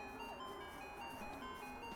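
Faint, steady jingle-like tones like an ice cream truck play in a city-themed golf course in the video game Under Par Golf Architect. The sound runs quietly in the background while people talk.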